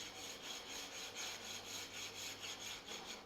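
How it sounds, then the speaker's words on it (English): A Shinto rasp shapes wood by hand on a tumbi instrument build, a quiet, steady rhythm of rough scraping strokes repeating about every half second. "I'm using the Shinto rasp"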